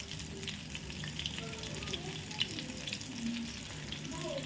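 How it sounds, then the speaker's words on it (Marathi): Boiled green chillies frying in oil on a lowered flame for mirchi bhaji, a steady close sizzle and crackle of hot oil with faint bubbling throughout. "मिरच्या तेलामध्ये टाकल्यात."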